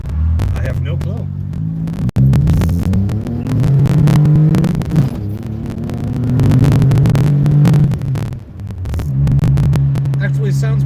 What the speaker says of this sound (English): Actually sounds pretty good if you only have the factory center muffler in place.